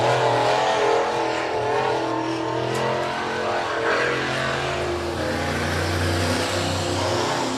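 Race car engine roaring steadily and loud at Big O Speedway during a regular race program, holding a sustained drone as the car comes out of turn 4 onto the white-flag lap, with no voices over it.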